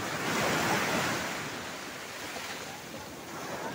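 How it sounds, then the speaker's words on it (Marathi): Sea waves wash steadily onto the wide, flat shore of Candolim beach in Goa, a loud continuous roar of surf with wind buffeting the microphone throughout, no one speaking. "ह्या बीचचं नाव आहे कंडोलियम बीच"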